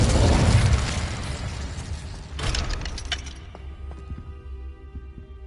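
Incendio fire spell cast in Hogwarts Legacy, a loud fiery burst that roars and crackles, swells again briefly midway, then fades into a lingering low rumble with faint ringing tones.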